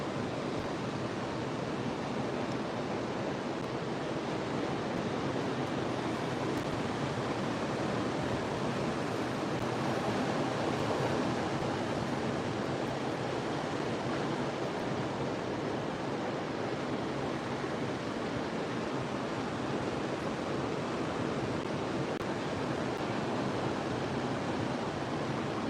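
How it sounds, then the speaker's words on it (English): Ocean waves roll ashore under a slight breeze on a calm morning, a soft, continuous wash of surf with gentle swells and faint wind hiss, steady and fairly distant with no voices. "With the waves coming in, you would think it would be more robust"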